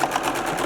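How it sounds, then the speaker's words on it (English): A sewing machine runs steadily in a short burst, back stitching the seam of a pleated fabric face mask, close and alone with no voices. "Back stitch."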